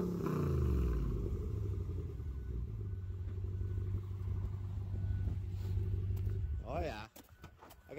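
A Dodge 6.4 Hemi V8 with a resonator and no muffler idles with a deep, steady, rumbling burble close by, then the sound drops away abruptly near the end.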